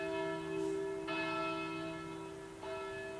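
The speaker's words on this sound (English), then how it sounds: "That bell, that has a real sense of irony." A church bell in the Kingdom Hearts video game rings out with a sustained, ringing metallic tone, struck again twice so each new strike swells over the fading hum, quiet and alone with no talking.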